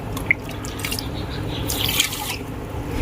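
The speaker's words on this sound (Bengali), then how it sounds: "সেই কাপে মেপে দিয়ে দিচ্ছি 2 কাপ জল" Water being poured into a pan to make sugar syrup for Bengali sweets, with soft trickling and dripping splashes that stay fairly quiet and close.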